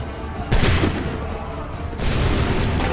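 Musket volleys fired by soldiers in Assassin's Creed III, two loud broadband bursts of massed gunfire, the second sustained and rumbling, with faint shouted commands nearby.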